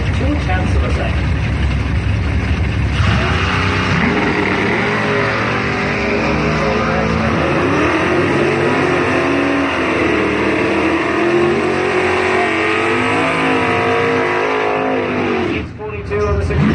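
Drag racing launch between a dragster and a Camaro: loud, sustained engine roar with revving pitch sweeps across most of the run, fading near the end, with an announcer talking over it.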